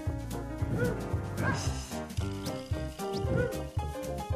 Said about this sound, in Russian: это какая-то местная африканская лисица. Которая лает.